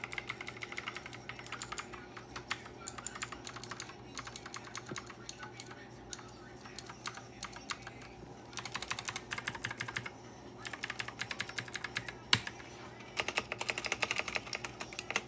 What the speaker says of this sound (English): this thing is one of the loudest keyboards I have